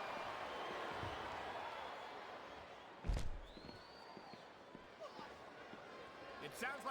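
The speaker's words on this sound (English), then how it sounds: "It sounds like this capacity crowd has something on their minds" Capacity arena crowd roaring steadily in the Smackdown Vs Raw 2007 wrestling game, a continuous broad wash of cheering with a loud thud near the middle, commentary voices talking over it.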